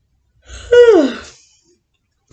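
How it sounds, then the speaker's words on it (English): A single person's yawn, rising and then drawing out into a long, descending voiced exhale, alone in quiet surroundings. "I don't know why I've been yawning in every single video."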